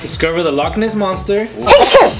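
A loud, close sneeze bursts out right after people talking, ending the stretch of speech with a sharp, breathy explosion.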